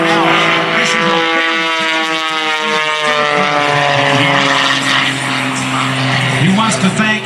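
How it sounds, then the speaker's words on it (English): A propeller aerobatic airplane performing a torque roll at the 2022 Blue Angels Homecoming Air Show drones steadily with a loud, buzzing engine tone that shifts slowly in pitch, while an announcer talks over it. "The propeller is forcing the turn backwards."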